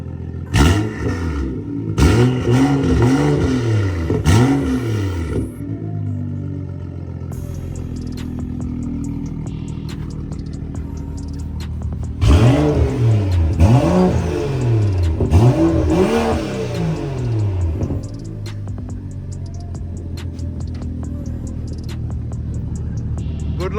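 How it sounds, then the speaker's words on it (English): A BMW with a louder aftermarket exhaust revs hard in bursts, engine roaring up and down in two clusters of rapid throttle blips, then settling into a deep, steady idle rumble. "Rev it! Rev it!"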